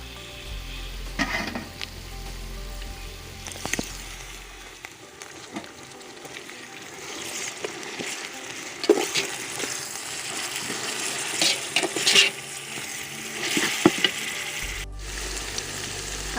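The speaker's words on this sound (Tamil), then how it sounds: "இன்னும் நம்ம நல்லா வதக்கிக்கலாம் இப்போ வெங்காயம் நல்லா வதங்கிருச்சு" Onions sauté for chicken dum biryani, a continuous close sizzle of frying in oil broken by repeated scraping strokes of a spoon stirring around the pan.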